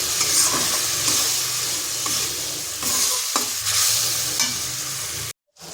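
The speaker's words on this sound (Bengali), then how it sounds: "এরপর মশলাটা একটু কষে নিচ্ছি।" Spice paste with green chillies and a splash of water being stir-fried in a wok for a vegetarian elephant-foot yam curry, a steady close sizzle with scraping stirs, then a brief silence near the end.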